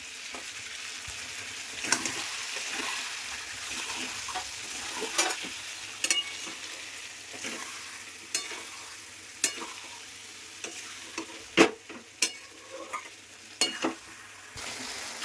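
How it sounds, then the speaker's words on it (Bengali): Spice paste sizzles and fries in a pan while being stirred, as a home cook makes pointed gourd with shrimp; a continuous close hiss runs under irregular spoon scrapes and clinks against the pan. "এখন এটা আমি দিয়ে দিব, দিয়ে ভালো মতো নাড়িয়ে চাড়িয়ে একদম পুরো কষাবো।"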